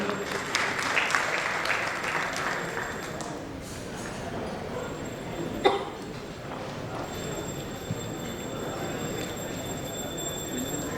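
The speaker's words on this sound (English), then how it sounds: "Can we have a huge round of applause for him?" Applause rises at an infrastructure summit in Mumbai, a moderate wash of clapping that is strongest at the start and then thins, with a sharp knock midway and faint room murmur around it.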